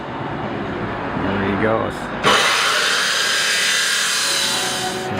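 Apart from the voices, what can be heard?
cut-off saw cutting exhaust pipe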